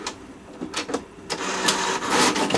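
An HP Smart Tank all-in-one printer draws paper in from its top feeder, giving a short run of mechanical whirring and clicking pulses with a few louder feed bursts, close by and with no talk.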